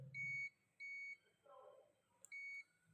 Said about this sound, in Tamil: பீப் சவுண்ட் வருது.